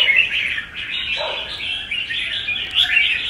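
A songbird sings alone nearby, bright chirps and trills repeating in quick phrases with short gaps.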